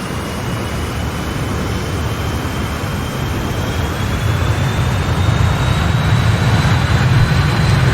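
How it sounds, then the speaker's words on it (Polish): Jet engines of a BAe 146 airliner in Microsoft Flight Simulator spool up on the runway, a loud, steady roar with a thin rising whine that builds gradually in strength. "i rozkręcamy silniki."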